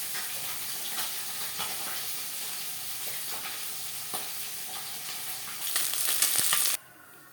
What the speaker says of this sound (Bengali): ফোড়নে দিয়ে দিলাম গোটা জিরে।